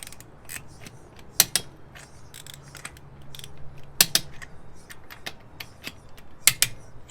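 Sharp clicking of a torque wrench on control arm brace bolts of a Hyundai Veloster N, a few bright clicks spaced among quieter ratcheting and mechanical taps, close and with no talking.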